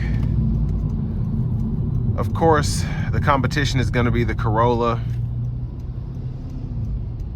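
A 2023 Honda Civic Sport Hatchback with a 2.0 engine and CVT drives in sport mode, a steady low engine and road rumble running throughout beneath someone talking from inside the cabin.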